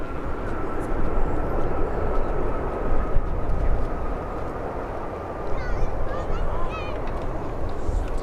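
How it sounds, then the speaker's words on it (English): An aircraft lands on the runway at Birmingham airport, a loud broad steady engine roar with a faint tonal whine, heard from a distance, with occasional bird calls on top. "Nice little bounce down the runway."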